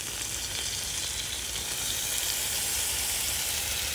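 Gilbaka fish goes into hot oil and masala for a curry, giving a steady, close hiss of frying and sizzling that stays even throughout.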